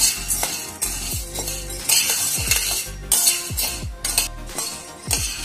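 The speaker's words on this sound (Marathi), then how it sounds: "हे आता मस्त भाजून घ्यायचे।" Val beans dry-roasted in a pan, stirred in a steady rhythm of scraping, rattling strokes with light metallic clinks about once a second, with faint music underneath.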